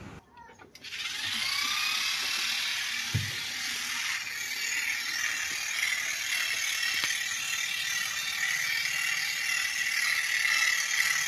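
An electric shearing machine cutting the wool of a dumba sheep, a steady close mechanical whir and buzz running continuously with small clicks and thumps from handling.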